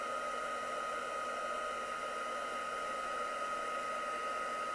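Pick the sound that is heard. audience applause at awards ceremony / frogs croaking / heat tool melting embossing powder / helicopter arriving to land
heat tool melting embossing powder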